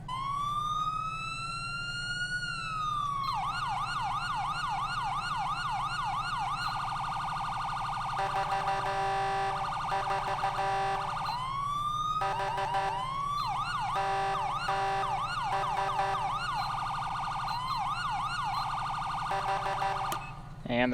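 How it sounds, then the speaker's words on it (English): An electronic police siren in GTA FiveM cycles through wailing sweeps and fast yelping patterns, switching tones several times, steady and continuous with a low hum beneath. "then I'll show you the siren for the CENTCOM Gold"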